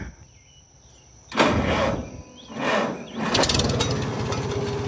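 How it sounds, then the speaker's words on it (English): Farmall 350 tractor with an original 6-volt system cranks over and fires up, its engine settling into a loud, steady running rumble after a quiet stretch, with a couple of surges in revs. "Start the old tractor back up."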